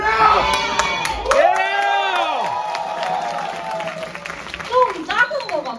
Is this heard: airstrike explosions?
no